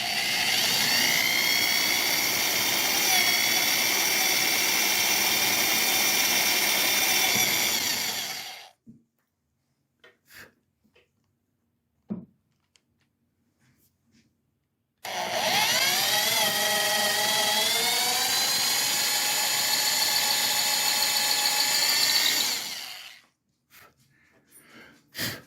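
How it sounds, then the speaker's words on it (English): A larger drill bit boring a tuner hole through a guitar headstock, following a pilot hole: two long, loud, steady whining drill runs of about eight seconds each, separated by a quiet pause with faint handling clicks. "Now I have the larger drill bit, and I'm going to go through after doing that pilot hole"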